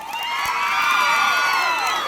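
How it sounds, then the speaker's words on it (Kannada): Crowd at a Life Today movie team event in Ballari cheering and whooping loudly, a dense burst of excited voices with some clapping rising and holding steady. "ಬರ್ಲಿ ಚಪ್ಪಾಳೆ ಅವ್ರಿಗೆ"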